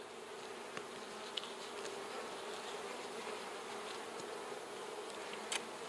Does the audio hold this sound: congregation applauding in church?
no